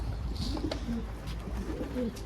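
Several pigeons coo softly and repeatedly nearby, low rolling calls overlapping against a constant background hum.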